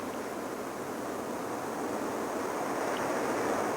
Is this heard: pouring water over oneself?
yes